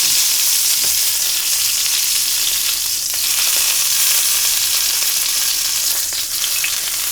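Fat cap of a sous vide ribeye steak searing in a hot pan, a loud, dense, unbroken sizzle held close for the whole stretch, no voices.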